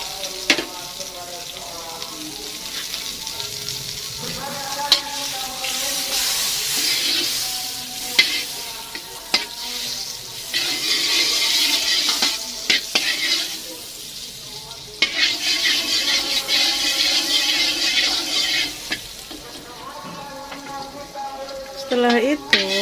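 Butter melts in a frying pan over a low flame, giving a steady sizzle broken by stirring scrapes and clatter, with a faucet-like hiss at times.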